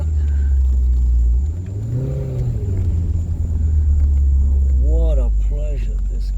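Maserati GranTurismo 2018 facelift sports car in sport mode revving, a deep steady engine rumble that swells into a rising rev around two seconds and again near five seconds, loud and close.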